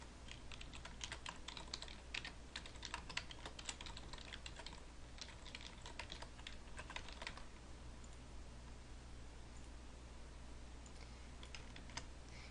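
Quiet, steady typing on a computer keyboard, rapid clustered keystrokes that thin out partway through, with a low hum underneath.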